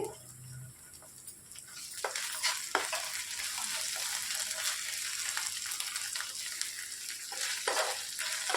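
Onions and ginger-garlic paste fry in oil with a steady, crackling sizzle at moderate volume, and occasional scraping stirs rise above it; no speech.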